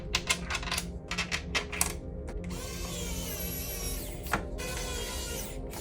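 Machine screws being driven into the back of a PS5 console, a quick run of sharp metallic ticks and clicks followed by a steadier whirring screwdriver whine, close and quiet.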